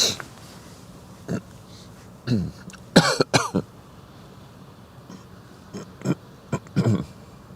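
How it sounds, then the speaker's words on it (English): Several separate coughs and throat-clearing bursts break out at irregular intervals over a quiet, steady background hum, during live ship spotting on the Westerschelde, Netherlands. "I do apologize for all the coughing and stuffy noises."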